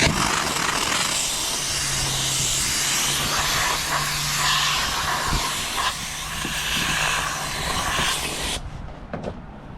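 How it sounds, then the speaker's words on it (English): A steam cleaner blasts steady, loud hissing steam across the interior of a builder's van, with a faint hum underneath, then cuts off abruptly near the end, leaving a few soft clicks. "just grab your steamer, go back over it"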